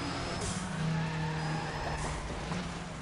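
A car in the racing game NFS ProStreet slides sideways, a sustained tire skid over droning engine noise at moderate level, steady for a few seconds.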